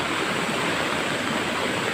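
Swollen river in Maco, Davao de Oro rushes after heavy rain, a loud, continuous broadband roar of churning water with no pauses, close by.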